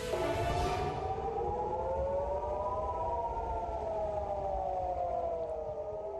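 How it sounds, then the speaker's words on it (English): Civil defense air raid sirens wail across Israel, several rising and falling tones overlapping in a steady, far-carrying howl with no voices present. "Sirens and explosions heard across Israel today in Tel Aviv, Haifa, even in Jerusalem"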